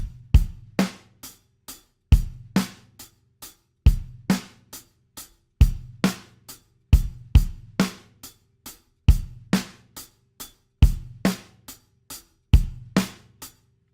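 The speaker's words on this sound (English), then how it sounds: "Hat, bass, snare, hat, hat, bass, snare, hat." An acoustic drum kit plays a steady rock-pop groove of hi-hat, bass drum and snare, crisp close strikes in a repeating two-bar pattern with no other instruments or voices.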